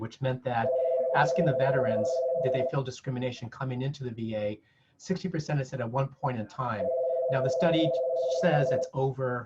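A telephone rings in two long tonal bursts during an indoor talk on veterans, sounding under continuous speech from a presenter.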